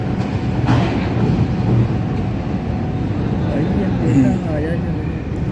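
A train pulling into a platform at Lahore railway station, a low steady rumble of rolling cars with faint squeals and clatter, under people chatting nearby.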